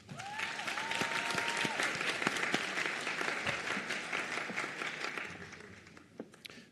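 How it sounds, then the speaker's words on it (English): Sustained applause from a graduation ceremony audience, steady crowd clapping filling the hall at an even level for several seconds before easing slightly toward the end. "give them a round of applause"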